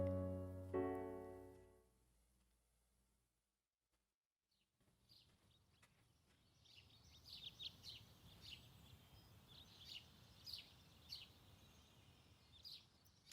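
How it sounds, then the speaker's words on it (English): Morning birdsong in the visual novel Witch on the Holy Night: after a quiet stretch, a soft bed of ambience rises and bright, repeated chirps and tweets scatter across it at a moderate distance, with no voices. "I woke up to the sound of birds chirping."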